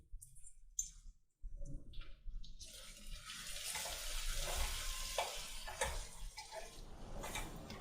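Freshly ground masala added to half-cooked potatoes in a hot pan: a few clinks, then a loud sustained sizzle that holds steady and close, with occasional stirring scrapes and no talk.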